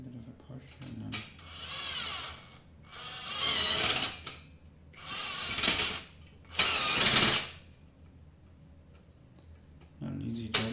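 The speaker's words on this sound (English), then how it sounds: "I'm just tightening the screws and stuff." Screws being tightened on a Parkside foldable workbench during assembly, with bursts of mechanical whirring or ratcheting from a driver, several distinct close, loud runs separated by pauses.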